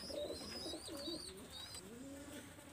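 A Teddy pigeon coos softly in repeated low warbling phrases, close by, with faint higher bird chirps over a quiet background.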